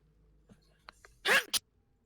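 A person sneezes sharply at close range, a loud double burst after a few quiet rustles and small sounds, in a tabletop role-playing game session.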